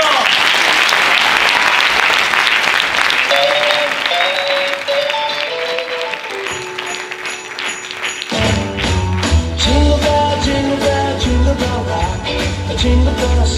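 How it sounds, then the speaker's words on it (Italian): Applause at a Christmas eve music, dance and theatre show, filling the opening seconds and fading as instrumental music with melodic notes begins, followed by a rhythmic swing band tune. "un applauso ad Alessandro!"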